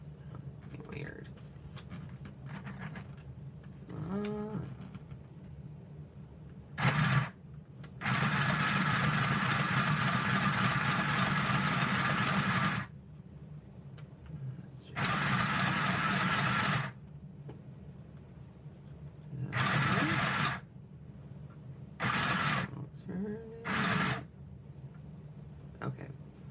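A sewing machine stitching through the pages of an altered children's book, running in several bursts of steady whirring chatter, some long and some short, with quiet pauses and a few soft spoken words between runs.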